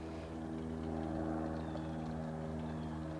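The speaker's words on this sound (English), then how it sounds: "I can hear it though" A plane flies unseen above an off-grid cabin on a still day, giving a steady, faint droning hum with layered low tones and no voices.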